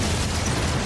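A cannon bomb explodes in Final Fantasy VII Rebirth: a loud, dense burst with a rumbling low end that holds steady through the whole short moment, with no talk over it.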